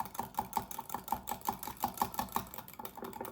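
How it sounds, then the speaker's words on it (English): Salad dressing being whisked into an emulsion in a bowl, a quick steady rhythm of light clicking taps as the whisk strikes the sides, close and faint with no voices. "now I'm just going to whisk it all together"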